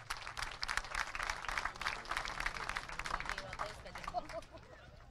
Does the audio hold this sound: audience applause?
yes